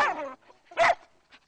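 A dog barks at a Lahore dog training center that trains German Shepherds and Labradors, giving one sharp bark and a short yip, fairly close with quiet gaps between them.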